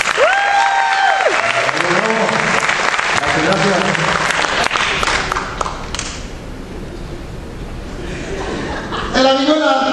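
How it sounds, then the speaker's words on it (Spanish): Audience applause for a guitarist being introduced at a live band presentation, loud steady clapping filling the moment with chuckles and scattered voices in the crowd, a sung or called note rising briefly at the start. "Un aplauso para él, por favor."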